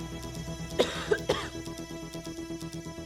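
Three sharp, loud coughs in quick succession close to the mic, followed by quieter rough breathing in an otherwise calm room.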